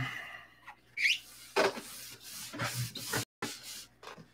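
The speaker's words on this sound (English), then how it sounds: "I have to go and sand it." A stunt control-line model airplane bell crank being sanded by hand, with several close, scratchy rubbing strokes of varying length separated by short pauses and no talking.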